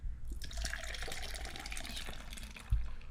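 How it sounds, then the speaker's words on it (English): Blonde ale is poured quickly into a glass, a close, soft liquid splashing and fizzing that runs steadily for a few seconds and ends with a small knock. "Jacob, you poured that too fast."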